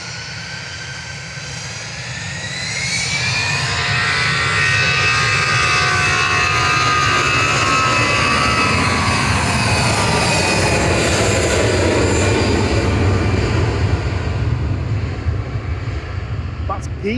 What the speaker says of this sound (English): Giza departing to Bilbao with flight 2005 for EasyJet.